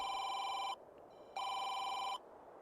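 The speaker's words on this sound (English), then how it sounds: "There's a phone." A telephone rings in two long electronic bursts separated by a short pause, loud and close, with no voices over it.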